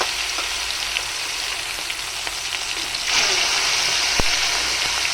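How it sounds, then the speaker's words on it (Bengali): Koi fish fry in hot oil in a kitchen, a steady close sizzle that jumps louder and brighter partway through as more fish go into the pan, with a single clink of utensil. "এখন সেই 3টে মাছ ভেজে নেব।"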